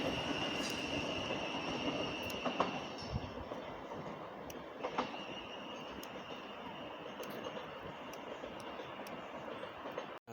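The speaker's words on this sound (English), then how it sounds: "Now departing platform 3 at Sevenoaks is a Southeastern service towards Hastings from London Charing Cross." A Southeastern train departs platform 3 at Sevenoaks station, a steady rumbling rail roar with occasional faint wheel squeals, continuous and fairly loud throughout.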